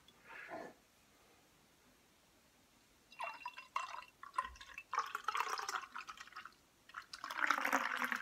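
Beer poured from the fridge into a standard nucleated beer glass, a faint early splash then bursts of gurgling, fizzing liquid building to a steady frothy pour near the end, with no talking.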